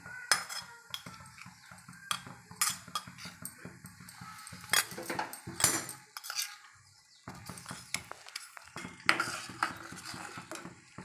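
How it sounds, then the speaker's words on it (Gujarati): A spoon stirs a pot of boiling milk with crushed almonds, cashews, sugar and cardamom for homemade ice cream, giving repeated metallic clinks and scrapes against the pan in irregular bursts, close and fairly quiet, with no talking. "જો હવે તે બરાબર આપણે મિક્સ કરી લઈશું"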